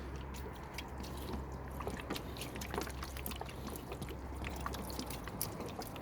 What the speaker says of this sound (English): Give it another rinse.